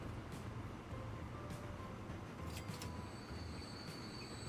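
Trains rolling along rails in the Transport Fever 2 video game, a steady continuous rumble with repeated wheel squeals and clicks over constant background noise.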